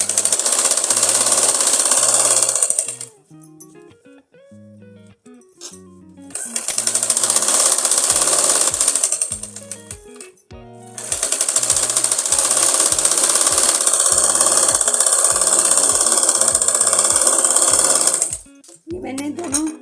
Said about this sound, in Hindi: इसमें भी हम कपड़े को बुकरम के ऊपर मोड़कर सिलाई लगाएंगे।